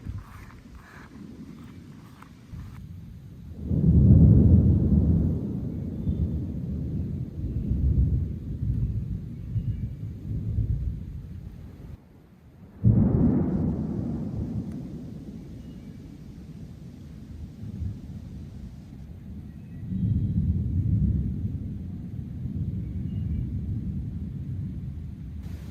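Thunder from a thunderstorm with lightning: two big rolling rumbles, each starting with a sharp crack and fading slowly, with a third swell later, loud and near, and no talk over them.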